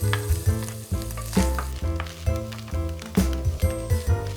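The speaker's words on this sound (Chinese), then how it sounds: "下大蒜煸香，" Garlic stir-fried with bacon in hot oil in a pan gives a steady close sizzle with repeated stirring scrapes, over a low continuous tonal background.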